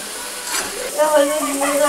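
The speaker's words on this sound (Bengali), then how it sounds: "এটাকে ভালো করে একদম খুন্তি দিয়ে নিয়ে নেওয়া হচ্ছে" Chicken fries in a pan while being stirred with a spatula, producing a soft steady sizzle with scraping, under someone speaking.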